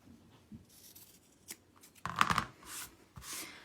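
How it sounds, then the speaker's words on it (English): Scissors snip through excess felt on a lined Bucilla plaid felt stocking, a short cluster of crisp cutting and rustling strokes near and fairly loud, with faint handling sounds before and after. "I'll cut that off."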